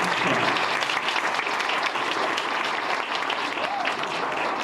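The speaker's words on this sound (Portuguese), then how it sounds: "Uma salva de palmas." Audience at a Black women's seminar in Brazil breaks into sustained, dense applause that stays loud and even throughout.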